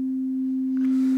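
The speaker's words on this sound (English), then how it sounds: "So this is a very simple sine wave" A computer-generated pure sine wave holds one steady, smooth pitch throughout, loud and unbroken, with no other sounds around it.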